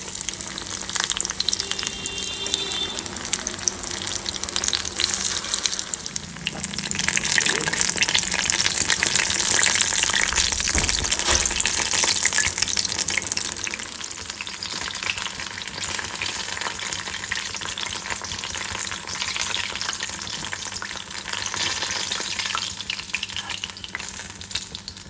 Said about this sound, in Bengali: এবার এরকম করে সবগুলো ভেজে নেব।